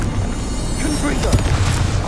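A Confringo fire spell explodes in Hogwarts Legacy with a low, rumbling boom and a brief sharper burst, loud and close within dense game noise and a blur of voices.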